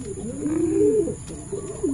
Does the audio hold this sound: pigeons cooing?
yes